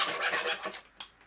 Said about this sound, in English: The Japanese pull saw felt like the right tool for this job.